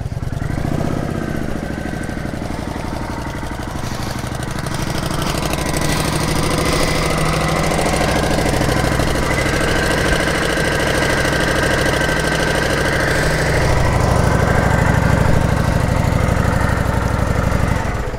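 A 2013 Kawasaki Vulcan 900 Classic motorcycle with 848 miles idles close by, its engine running in a steady, loud rumbling throb throughout with no talk.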